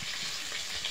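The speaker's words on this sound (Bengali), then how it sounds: "মাছগুলো ভাজা হয়ে গেছে," Ilish fish fries in hot oil in a wok, giving a dense, continuous sizzle close by with no talking.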